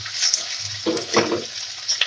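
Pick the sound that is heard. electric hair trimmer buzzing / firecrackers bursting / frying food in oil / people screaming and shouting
frying food in oil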